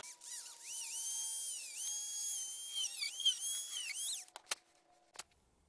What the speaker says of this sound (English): I'm just going to use the Dremel and see if that helps